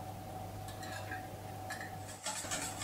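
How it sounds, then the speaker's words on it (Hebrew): Gelatin being stirred into a hot honey and apple mixture in a bowl, with soft spoon scrapes and light clinks against the bowl over a steady kitchen hum, plus a brighter clatter near the end. "אני מערבבת כדי שהכל ינמס"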